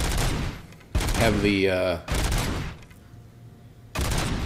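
Short bursts of rifle gunfire, each a loud close crack cluster, come in four separate volleys spaced about a second apart, with a brief voice speaking between shots.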